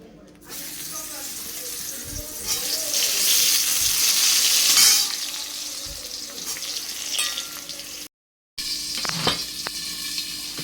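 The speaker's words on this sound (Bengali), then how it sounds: "আগে একটু বেগুন ভাজাটা বসিয়ে নিই" Loud hiss and crackle of brinjal slices frying in oil, swelling and easing, with occasional knocks and clatters and a brief gap of silence.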